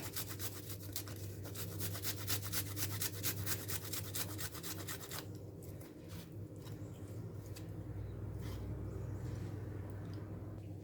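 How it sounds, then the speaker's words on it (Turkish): Ingredient grated finely on a grater for a yogurt chicken salad, quiet rapid rhythmic rasping strokes that are fast at first and then slower and softer over a low kitchen hum. "sevmeyenler çok ince rendeleyerek kullanabilirler"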